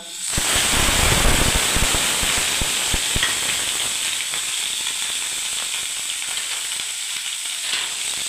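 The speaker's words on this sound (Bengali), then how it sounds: "আমি পেঁয়াজ পেস্ট আর আদা পেস্ট আমি দিয়ে দিচ্ছি" Onion and ginger paste hits hot oil after cardamom, bursting into a loud sizzle that settles into a steady, bright hiss and crackle, with no talking over it.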